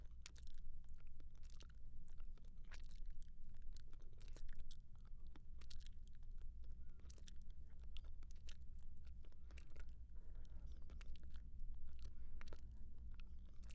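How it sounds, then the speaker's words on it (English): Faint, close mouth noises of a mimed gum-chewing jaw exercise, with repeated soft wet clicks and smacks in an exaggerated chewing rhythm over a low, quiet background. "Like you're chewing gum."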